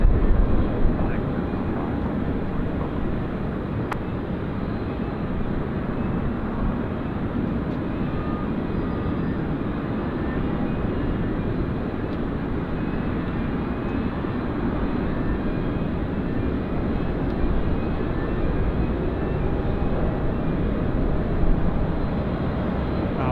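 An Emirates airliner at Sydney Airport sounds as a steady, loud broadband jet roar that holds unbroken for over twenty seconds. Air traffic radio chatter and commentary come through over it.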